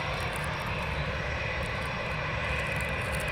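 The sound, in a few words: EasyJet aircraft departing at Manchester Airport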